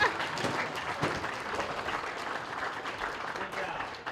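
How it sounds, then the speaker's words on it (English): Applause from an audience at a school popsicle-stick bridge strength competition, a steady patter of clapping held at moderate level for a few seconds with voices mixed in. "Give him a round of applause."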